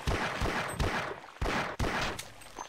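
Heavy automatic gunfire from a Half-Life remake in Unreal Engine 5 hammers in dense, repeated bursts with brief gaps, loud and close throughout the stretch of combat.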